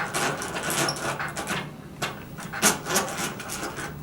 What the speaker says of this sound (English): you place where you want to drill, and you just start turning, and you just lightly put pressure down